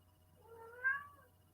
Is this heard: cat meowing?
yes